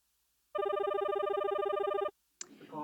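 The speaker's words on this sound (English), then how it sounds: "Who's ringing? Is it your phone?" A telephone rings with a rapid warbling electronic trill in one sustained burst of about one and a half seconds, fairly loud in a quiet room, followed by a brief voice.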